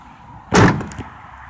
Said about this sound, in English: Your back door.